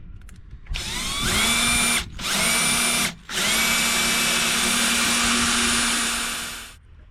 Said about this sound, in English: Now we drill out the holes for where the screw bolts are located.